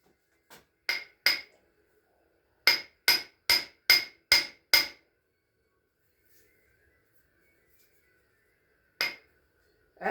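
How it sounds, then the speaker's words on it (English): Sharp metallic copper hammer strikes in quick bursts while working on a 2008 Pontiac G6 GT: a few blows, a run of six rapid hits, then silence before two more. Close and ringing. "Copper hammer."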